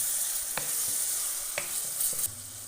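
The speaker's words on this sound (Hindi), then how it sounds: "अच्छी तरह इसको भूनना है ताकि चिकन का कच्चापन ना रहे" Chicken coated in black pepper and red chilli is roasted in a pan under a soft continuous sizzle, while a spoon scrapes through it three or four times with brief knocks.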